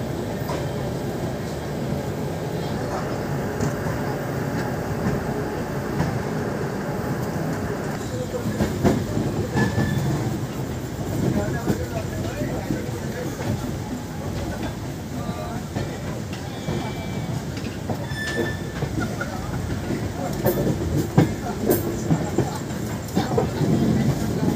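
The Uttarbanga Express, on its Sealdah to NJP run, moves slowly past a waiting Ajmer Express, its wheels and carriages giving a steady, loud rumble and rattle throughout, with people talking over it.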